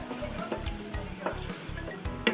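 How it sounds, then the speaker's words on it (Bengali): Whole cumin, a dried chili, bay leaf, cardamom and whole garam masala fry in hot oil in a home kitchen for an aloo curry, a soft crackle under rhythmic scraping stirs of a spoon against the pan. "মশলাটাকে আমি ভালো করে ভেজে নেব।"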